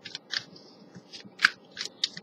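A deck of tarot cards being shuffled and cut, with crisp, irregular snaps and flicks close by over a soft background.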